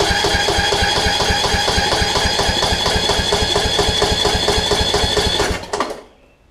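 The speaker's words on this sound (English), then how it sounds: "Let's see if it will fire now." A Kohler Courage engine on a Toro Z5000 zero-turn mower, suffering back pressure from a tight intake valve, chugs loudly with rapid, even firing pulses near the mic, then abruptly cuts out and dies away near the end.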